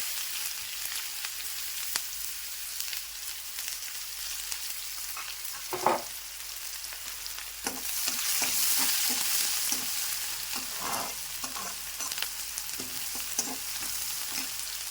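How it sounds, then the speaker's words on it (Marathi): Cumin, mustard seeds and a large chopped onion sizzle in hot oil for a dum aloo tempering, a steady crackling fry that swells louder midway, broken by scattered stirring knocks and pops, with no speech. "तेच तेलामध्ये आपण आता फोडणी देणार आहोत तर हे थोडीशी जिरे टाकू मोहरी टाकू मग जिरे टाकू मग थोडा एक मोठा कांदा मी कापून ठेवलेला होता ते टाकू"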